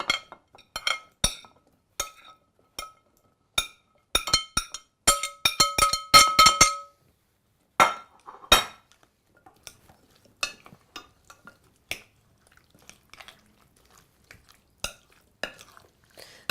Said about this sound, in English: Now I'm going to take this meat back out of this pan and put it in here with my vegetables.